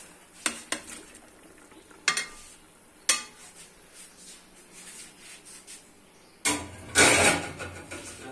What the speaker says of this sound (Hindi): और ये जो टमाटर और हरी मिर्चें गोश्त में डालेंगे